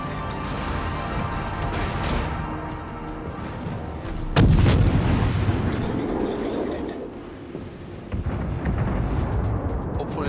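A Japanese tier II cruiser, the Chikuma, fires its naval guns in World of Warships. One sharp, loud boom cuts through a steady rumble of engine and wind, and a voice talks over the scene.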